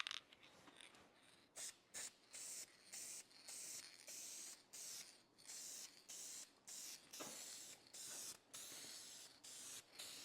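Spray gun laying a final, heavier coat of clear coat onto a car's bodywork, loud close hissing bursts in repeated passes separated by brief pauses, with no talking.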